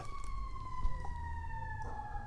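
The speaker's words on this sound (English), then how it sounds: "I hear the sirens going" A distant siren wails steadily outside, its pitch slowly falling, faint beneath low background rumble.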